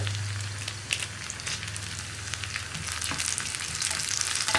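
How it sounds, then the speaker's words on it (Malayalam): Dried red chillies and onions fry together in a pan for a Kerala parippu and raw banana curry, making a continuous, moderate sizzle broken by light stirring scrapes. "വറ്റൽമുളകും കൂടി കുക്കായി വരട്ടെ."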